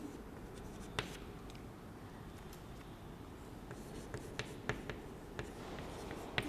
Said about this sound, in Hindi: तो यहाँ पर मैं उदाहरण लिखती हूँ।